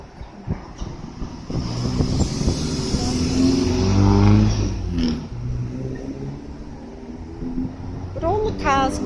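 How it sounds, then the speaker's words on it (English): Cars accelerating as they pass close by on a road, a swelling whoosh that peaks midway and fades, with wind buffeting the microphone and someone talking throughout. "cars make this kind of little aggressive kind of noise as they go past you, accelerate."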